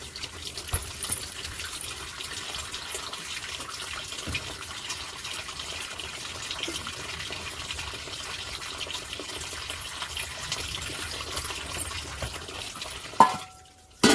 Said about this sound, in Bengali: ভালো করে মাছটা ধুয়ে নিই।